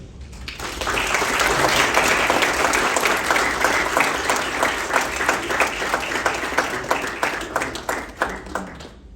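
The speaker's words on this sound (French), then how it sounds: "Je vous demande d'applaudir." Wedding guests break into loud, sustained applause, a dense wash of clapping that holds steady for several seconds before thinning into scattered claps at the end.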